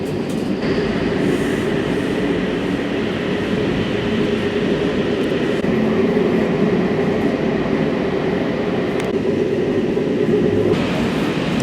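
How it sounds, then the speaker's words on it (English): Passenger train travelling from Mostar to Sarajevo in Bosnia, heard from inside the carriage as a loud, continuous rumble and rolling wheel noise with faint rhythmic clatter and a few brief squeals, no talk. "I'm now taking the train back from Mostar to Sarajevo"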